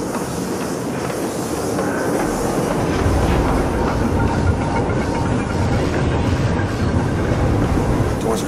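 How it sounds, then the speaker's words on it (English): A train rolls along rails in the Captain America: Super Soldier video game, a steady rumbling clatter of wheels with faint clickety-clack, loud and continuous, growing slightly heavier midway. "If one of these trains goes in the right direction."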